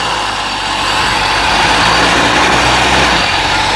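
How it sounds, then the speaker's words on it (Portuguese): A Honda CG Titan motorcycle fitted with a Makita marble saw motor revs steadily in first gear, a loud, continuous high-pitched whine with broadband buzz that swells slightly as it accelerates, alone without voices. "colocar na primeira marcha aqui já, acelerar e solta a embreagem"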